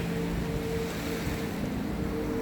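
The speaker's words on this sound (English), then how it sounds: "The waves are never in a rush. They arrive, touch the shore, and gracefully fade away." Ocean waves rolling onto a shore make a steady, soft wash of surf, a continuous even hiss with a low rumble beneath and no voices.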